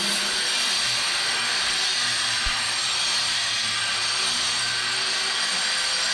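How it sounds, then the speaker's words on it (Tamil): A grinding wheel working over a wooden door frame on a Chennai house construction site gives off a loud, unbroken abrasive whir that holds steady from start to finish, close to the listener, with no talking. "வாசக்கால் இந்த உள்ள கிரைண்டிங் வீல் ஒர்க் நடந்துகிட்ருக்கு"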